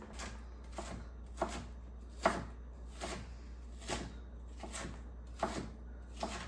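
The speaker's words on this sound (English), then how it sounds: "At the same time, I'm gonna chop up 2 onions" Two onions being chopped with a knife on a cutting board, with about eight evenly spaced, sharp cuts across a quiet background and no talking.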